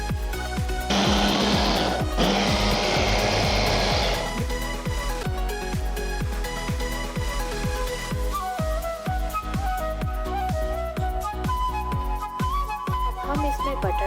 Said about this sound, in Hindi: अब हम बिस्किट्स को क्रश करेंगे